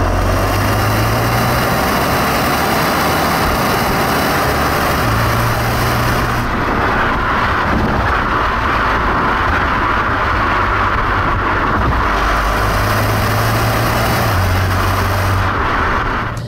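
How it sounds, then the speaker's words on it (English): An Alfa Romeo Giulia Veloce sports sedan engine runs steadily and loudly, accelerating in manual mode, with a low rumbling drone that shifts in pitch as it revs, heard close up. "slide the car over into manual mode, and put your foot down."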